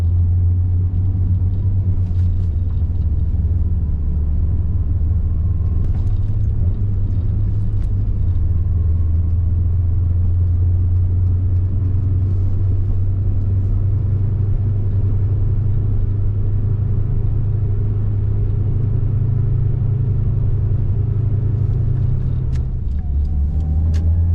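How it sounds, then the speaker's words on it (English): A Toyota AE111 car's engine rumbles low and steady from inside the cabin, a constant drone with no speech, as the car moves slowly in cold weather with a bad alternator. "Still kind of cold, so I'll drive a little slow here."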